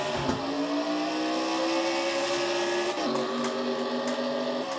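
Race cars in a Castrol GTX Cup Series event accelerate hard at a green-flag restart, a loud, steady engine roar with rising pitch and a brief gear-change dip partway through, no talk.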